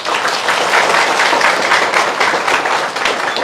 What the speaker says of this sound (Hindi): एक बार ताली बजा दीजिए सब।